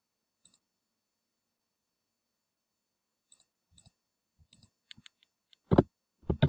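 Sparse computer mouse clicks while saving a file, a few faint isolated clicks early on, then a cluster of quick clicks and a couple of louder knocks near the end in an otherwise quiet room.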